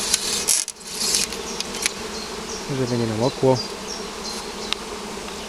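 Honeybees from a swarm that flew in on its own, settling into a new hive under a temporary plastic roof, buzzing steadily nearby with a brief low-voiced remark partway through.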